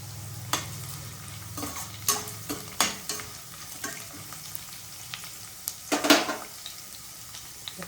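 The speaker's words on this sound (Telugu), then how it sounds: "పచ్చి శనగపప్పు ఒక అరగంట నానిపోయిందండి శనగపప్పు వేసుకోవాలి" Soaked raw chana dal stirred in hot tempering oil, with a soft steady sizzle and sharp scraping clicks of a spoon against the pan scattered throughout.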